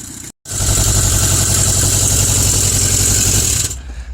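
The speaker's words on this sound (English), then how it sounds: "I'm glad to hear this motor run again this spring" A motorcycle engine idles steadily after its first start of the spring, with the choke off, a loud, even running rumble that holds for about three seconds before it cuts out.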